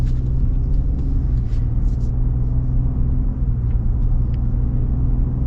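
A Ford F-150 pickup truck with aluminum construction accelerates, its engine a steady low rumble heard from inside the cabin, continuous and moderately loud.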